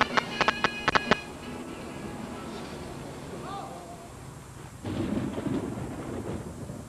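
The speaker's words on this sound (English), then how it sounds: "It's pouring with rain" Heavy rain pours down in Munich with rolls of thunder, a constant hiss of rainfall broken by sharp cracks at the start and a louder surge of downpour near the end.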